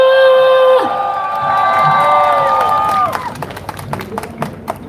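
At an outdoor rally about refugee policy, a drawn-out voice rings out first, then a crowd breaks into scattered, lively clapping that continues to the end.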